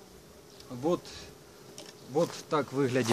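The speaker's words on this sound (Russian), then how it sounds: "Как видите, пчелки работают." Honeybees working at a nucleus hive give a steady insect buzz close by, running under a man's speech throughout.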